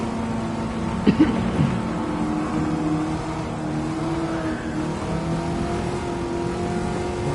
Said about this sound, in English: It's a mid-engine V8.